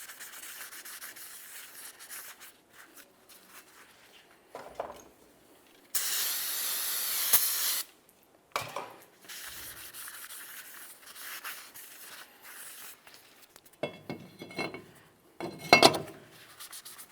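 Parts cleaner sprays in a loud two-second hiss onto a brake rotor of a 2007-12 Nissan Sentra, followed by scattered rubbing and wiping sounds from a rag, with short bursts between quieter handling noises.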